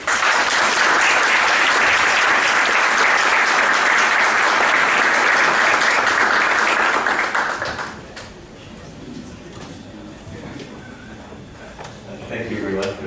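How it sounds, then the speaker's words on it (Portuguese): A conference audience at Projeto ICD 2013 in Brazil gives a guest speaker a sustained round of applause for about seven seconds; it then fades into a quieter room with scattered small sounds and someone beginning to speak. "vamos saudar o STEM com uma grande salva de palmas"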